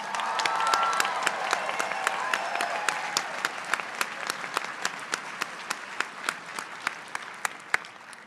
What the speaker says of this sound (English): So let me now offer a hearty congratulations to our School of Nursing graduates of 2026. First round of applause.